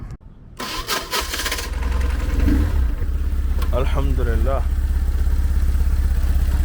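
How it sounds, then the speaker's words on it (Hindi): A motorcycle engine is started with a fitted starter and newly connected wires. Cranking and the catch come in the opening second or two, then the engine settles into a steady, loud idle, with someone speaking briefly over it. "अब मोटरसाइकिल को स्टार्ट करते हैं बिस्मिल्लाह पढ़ के"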